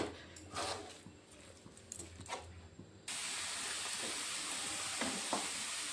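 Milk being stirred slowly in a pan on a gas stove, with soft scraping strokes; after a few seconds a steady, hissing burner-like noise takes over and runs on beneath the faint stirring.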